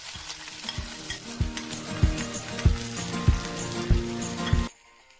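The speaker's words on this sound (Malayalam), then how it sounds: "ഒന്ന് ചൂടായിട്ട് വരുമ്പോൾ നമ്മൾ അരിഞ്ഞു വെച്ച സവോള അതിലേക്ക് ചേർത്ത് കൊടുക്കാം." Chopped onions sizzle and crackle in hot coconut oil in a pan while being stirred, with a steady frying hiss and rhythmic scraping strokes that stop abruptly near the end.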